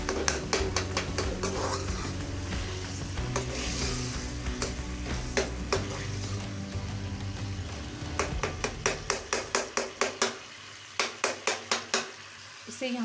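Chicken karahi sizzles and fries steadily in a pan, with repeated sharp metallic scrapes and taps of a spoon stirring against the pan, growing into a quick rhythmic series of clinks toward the end; no talking.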